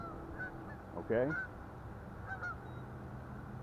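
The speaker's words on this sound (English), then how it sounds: "And again, you can hear the geese. Listen to them." Geese at a fishing spot give a short burst of loud honks near the middle, with fainter distant honks on either side over quiet outdoor background noise and a brief spoken word.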